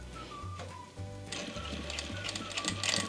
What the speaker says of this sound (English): Alright, let's go ahead and sew. Make sure you always backstitch and watch your fingers.